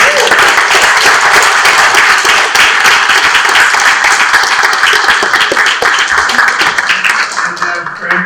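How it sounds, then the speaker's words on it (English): An audience applauds loudly and steadily at a small-town candidates' meeting in Piermont, dense clapping sustained for several seconds before tapering slightly at the end, with voices mixed in. "more round of applause for these nice people"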